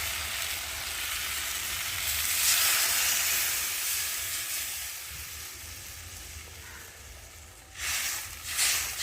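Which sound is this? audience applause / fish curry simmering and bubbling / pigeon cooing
fish curry simmering and bubbling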